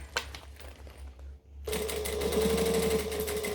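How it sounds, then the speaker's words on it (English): A sewing machine top-stitches around a fabric bag, a short burst of stitching, a pause, then a steady, loud, continuous run of rapid mechanical stitching close by. "I'm just going to keep moving the bag around and top stitching around the bag"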